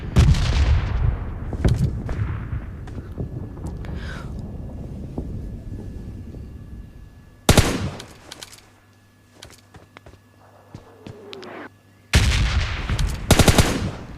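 Gunfire rattles in PUBG Mobile Lite during a solo match, with dense rapid bursts at the start, a sharp volley around the middle, and another burst near the end, separated by quieter stretches with faint game ambience.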